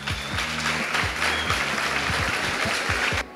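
A group applauds students at a school event, a dense, continuous clapping heard over a low rhythmic hum that breaks off abruptly at the end.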